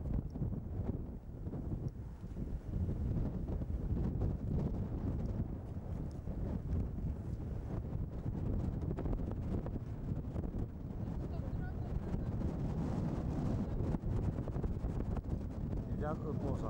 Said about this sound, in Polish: I wiatr od morza.